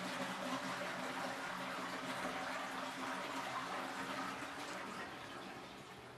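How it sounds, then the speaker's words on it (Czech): A toilet being flushed gives a steady, soft rushing of water that carries on evenly and fades slightly toward the end. The sound is fairly faint and no voice is heard. "A důležité je, musíme spláchnout."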